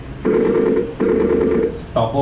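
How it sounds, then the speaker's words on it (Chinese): A Skype video call connecting during a school's online livestream setup, heard as repeated electronic ringing tones in regular bursts, each lasting under a second with short gaps, fairly loud and clear. "现在老师电话了"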